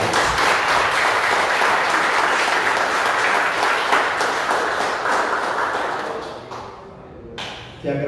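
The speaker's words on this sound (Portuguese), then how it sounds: "Vamos aplaudir ao Senhor." Church congregation at a Sunday service applauding together: dense, loud, sustained clapping that thins and fades toward the end, with faint voices beneath.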